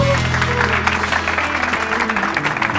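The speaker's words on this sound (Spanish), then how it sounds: "Un fuerte aplauso." Studio audience clapping on a university entertainment show, steady and fairly loud, with music or sustained tones running underneath the applause.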